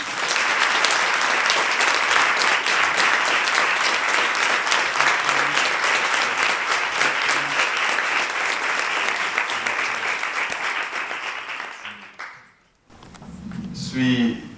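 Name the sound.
audience applause welcoming a conference guest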